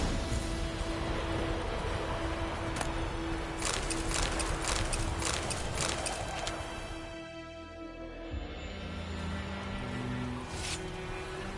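Horse hooves clip-clopping in the video game Witcher 3: a steady, fairly faint rhythm of hoofbeats mixed with a continuous game ambience and background music, with a shift in the sound partway through.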